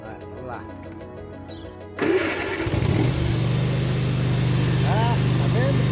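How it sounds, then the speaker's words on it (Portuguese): A tractor engine cranks and catches, then settles into a loud, steady running drone, with people talking before and during it. "Agora vamos ver se o trator funciona."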